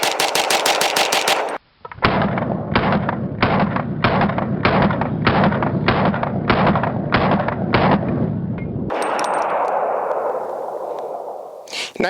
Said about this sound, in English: I wanted to run each gun in slow motion using some of the 90 grain plus P Blue Line 9mm from Ultimate Ammunition